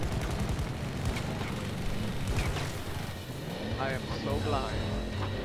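Gunfire in the video game Battlefield, a busy battlefield mix of shots and bursts rumbling under near-constant excited talking, dense and continuous rather than distinct individual shots.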